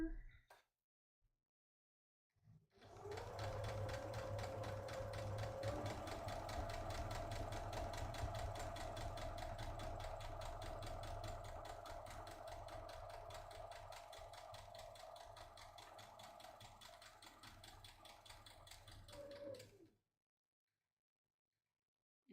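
A sewing machine stitches a seam on a drawstring project bag, a continuous, even, rapid mechanical hum and patter lasting about seventeen seconds before it stops, close up and steady.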